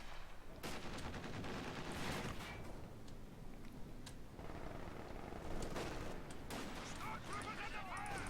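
An MG42 machine gun fires in a World War II strategy game skirmish, with faint rapid bursts mixed into dense battle noise under steady commentary.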